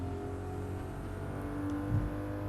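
A race car engine held at full throttle in Gran Turismo Sport, a steady droning roar with a low hum and faint whine that holds loud and even for the whole stretch.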